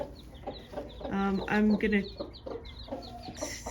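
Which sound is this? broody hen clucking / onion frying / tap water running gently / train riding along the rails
broody hen clucking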